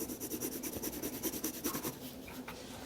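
A colored pencil shades back and forth across paper in quick, rhythmic scratchy strokes, faint and close, with no talking.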